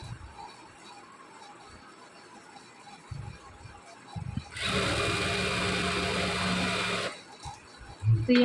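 A sewing machine stitches kurti fabric, starting suddenly into a steady, loud, close whirring run of about two and a half seconds, then stopping, with quiet handling noises before and after.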